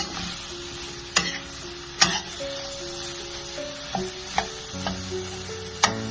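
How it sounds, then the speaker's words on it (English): Tomatoes are stirred in a pan while making an egg roast, with a soft sizzle underneath and sharp spatula taps against the pan recurring every second or so, close up and without talk. "Let's mix the tomatoes."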